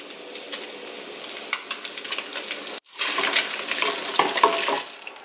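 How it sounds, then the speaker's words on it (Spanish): Pork meat browning in hot oil in a pan, with a steady crackling sizzle and bursts of spitting throughout, broken by a brief silent gap near the middle before the frying noise resumes at similar strength. "Voy a poner un poco más de aceite para que se dore bien la carne."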